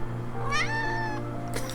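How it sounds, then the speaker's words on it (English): A pet cat gives one clear, close meow that rises and then slides down, followed by a brief squeak of another sound. "Oh, you cute kitty."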